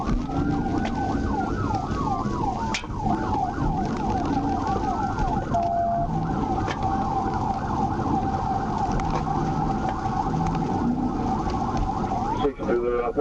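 A police car siren wails continuously through a high-speed chase on Magnolia Drive, rising and falling sweeps repeating loudly and close over engine and road noise, with a brief burst of clatter near the end.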